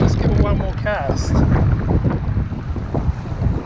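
Strong wind buffets the microphone beside a river during a fly-fishing trip in the Kaweka Range, a steady low roar with gusts, while someone speaks briefly over it.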